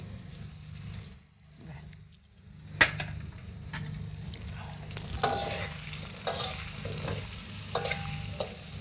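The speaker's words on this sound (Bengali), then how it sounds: "এটা একটু কষাতে হবে" Ground cumin, chili and coriander powders stir-frying in a pan, a low continuous sizzle with intermittent scraping and stirring clatters, close and moderately quiet.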